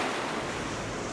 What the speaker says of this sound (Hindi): सर ये मोरजिम बीच है। और मोरजिम बीच गोवा में पड़ता है।